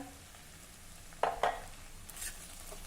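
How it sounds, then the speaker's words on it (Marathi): A pan of peanut kharda mixture with fresh coriander is stirred and sautéed, a low sizzle running beneath two quick scraping clinks of a spoon against the pan and a fainter scrape after; no speech. "आणि हे मिक्स करू दोन मिनिटांसाठी पुन्हा एक वेळा हे परतून घेऊया"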